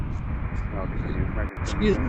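An American Airlines jet lands on runway 19 at Washington's DCA airport, with a steady, loud broadband roar. A voice speaks over the noise.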